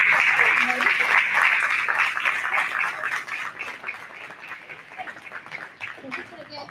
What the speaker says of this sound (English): how about a round of applause for the jazz choir?